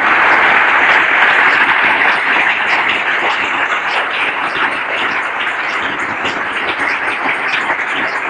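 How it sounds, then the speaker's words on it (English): A church congregation at a convention gives a sustained round of applause as a clap offering, a dense, steady wash of many hands clapping that continues evenly throughout, slightly fading toward the end. "Let's give the Lord a clap offering for everyone."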